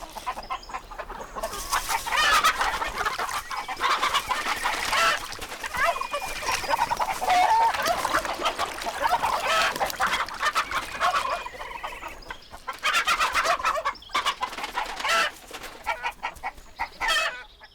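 Poultry clucking and calling steadily throughout, with dense bird chatter that thins briefly midway before resuming at full strength.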